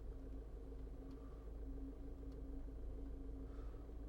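A 2012 Range Rover Evoque creeps forward slowly during self-parking, its engine a low, steady idle rumble inside the cabin, quiet and unchanging, without any speech.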